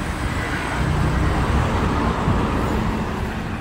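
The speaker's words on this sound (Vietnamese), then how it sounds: "chưa bao giờ mà thành phố Hải Phòng lại chứng kiến những cái cảnh ùn tắc lâu đến như vậy" Steady, dense roadway rumble from a long traffic jam of cars, buses and trucks queued at the Hai Phong checkpoint, a continuous broad engine and tire drone with no pauses and no talking.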